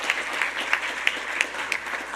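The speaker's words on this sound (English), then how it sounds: "So big round of applause for SECCD" Audience applause at a scholarship awards ceremony, a faint, steady patter of hand claps filling the room with a few sharper individual claps standing out.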